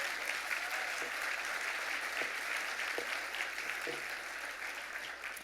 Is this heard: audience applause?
yes